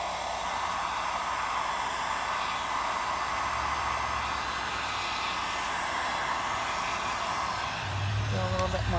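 A hair dryer runs steadily, blowing hot air onto freshly painted and scraped paint being given an aged, crusty finish. Its continuous broadband whoosh holds close and constant, with a short clatter near the end.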